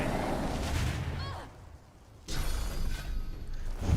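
A fire spell explodes in Divinity: Original Sin II, a loud booming blast with crackling rumble, a short quiet gap, then another burst of fiery explosions mixed with game sound effects.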